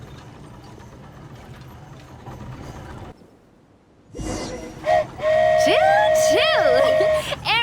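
A flying train in a video game sounds a bright, sustained steam-style whistle with warbling pitch sweeps over a steady rolling rumble, after a brief near-silent gap and a short noisy burst.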